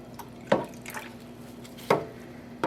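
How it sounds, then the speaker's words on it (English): Liquid dye is poured into a pot of superwash wool/mohair/nylon sock yarn sitting in a little water, giving two distinct splashy drips about a second apart over a quiet background, with no talking. "pour some of this dye in"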